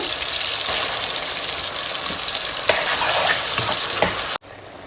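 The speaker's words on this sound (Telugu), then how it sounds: "ఆయిల్ వేడెక్కింది ఇంకో టమాటా ముక్కలు వేస్తున్నాను" Tomato pieces and green chillies frying in hot oil, a loud continuous sizzle with a few sharper crackles, close up, cutting off abruptly near the end.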